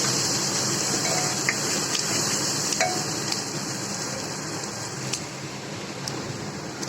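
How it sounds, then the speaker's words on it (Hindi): Onions frying in oil with cumin, with tomatoes about to go in, produce a constant loud hiss of sizzling close by, with a few faint clicks and no speech. "ये प्याज हमारी भुन गई है, अब हम इसमें टमाटर डाल देंगे"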